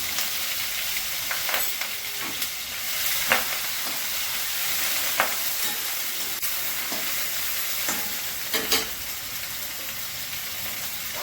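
Ginger frying in hot oil for a Bengali bottle gourd and prawn curry, a steady bright sizzle throughout with scattered scraping stirs and small pops, close and loud, no voices.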